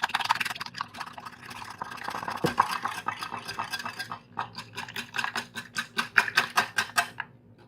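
Eggs being whisked in a bowl for steamed egg manchurian, a fast, steady clatter of utensil against the bowl that grows into sharp rhythmic strokes, close and fairly loud, with no talking.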